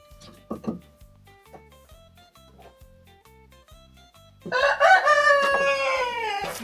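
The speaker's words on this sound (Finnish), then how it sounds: "Voi että meillä kukot ja kanat huutaa." Roosters and hens at a home in Piedmont: short clucks at first, then a loud rooster crow close by, with hens clucking around it.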